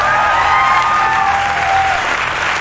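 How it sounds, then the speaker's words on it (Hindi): Loud, sustained applause from a large audience at a Vestige business event, dense clapping filling the whole stretch with a few faint whistles or cheers riding on top. "एक बार जोरदार तालियां।"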